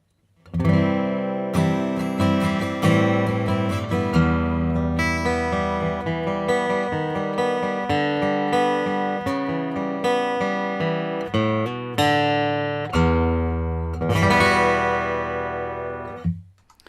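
Acoustic guitar with a bright, slightly dry plugged-in tone, plucked notes and strummed chords ringing steadily throughout, close and fairly loud.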